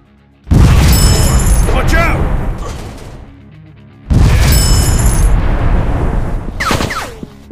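Two heavy grenade explosions in an FPS robot shooter Android game, each a loud booming blast with a long rumbling tail and scattered gunfire, about three and a half seconds apart, with shouted game voices mixed in.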